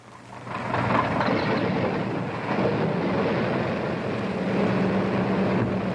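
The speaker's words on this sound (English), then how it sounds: "Engines start." Big four-engine bomber from the WWII Willow Run plant starting up on the ground, a loud sustained roar building within the first second and holding steady with rumbling low drone throughout.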